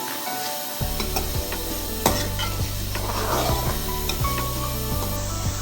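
Kaleji (liver) with salt and red chilli sizzles in a pan while being stirred, a steady frying hiss under repeated scraping strokes of a spoon, close and fairly loud with no talking.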